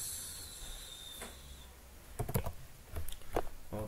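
Computer keyboard typing in a few quick, light clusters of clicks and taps, close by, over a faint background hiss, with no talk.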